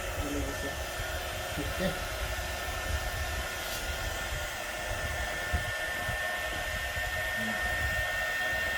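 A dental air blower runs in a steady, continuous hiss over wax during occlusal therapy, a constant blowing sound throughout with a brief word spoken once.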